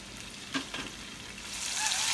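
Ackee and saltfish ingredients sautéing in a pot, giving a soft continuous sizzle that grows brighter toward the end, with a couple of faint stirring knocks early on, close and fairly quiet.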